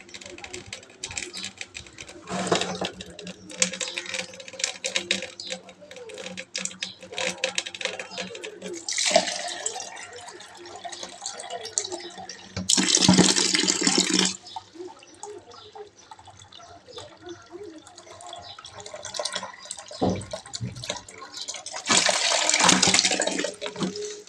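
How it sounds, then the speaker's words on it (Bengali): Water runs from a household tap into a container after dishwashing, gushing in several louder bursts against steady household clatter and background noise. "আমি জলটা ভরে নেব"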